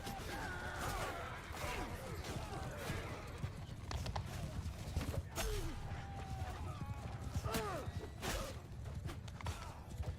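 Horses galloping in the medieval battle game Bannerlord, a steady clatter of hooves with occasional whinnies amid a dense, noisy battle din, while a person talks over it.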